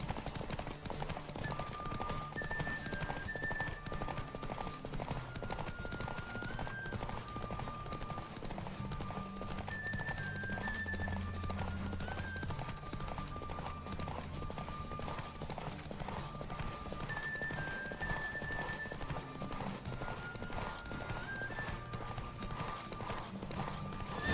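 Rapid hoofbeats of a galloping horse carry on without a break through a race in Witcher 3: Wild Hunt, layered with orchestral game music and the occasional snort or whinny.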